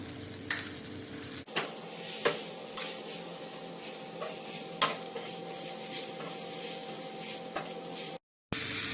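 Vegetables sauté in a pan with a pinch of salt, a steady sizzle under repeated spatula clicks and scrapes, close and even, cutting out briefly near the end before the frying noise returns.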